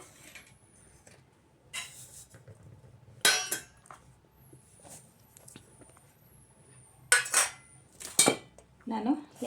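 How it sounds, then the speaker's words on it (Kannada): Ground sambar spice powders mixed together in a bowl, heard as a few separate loud clinks and scrapes of a metal spoon against the bowl, spaced irregularly over otherwise quiet stretches. "ಈ ರೀತಿ ಎಲ್ಲ ಒಟ್ಟಿಗೆ ಮಿಕ್ಸ್ ಮಾಡ್ಕೊಳ್ಳೋಣ"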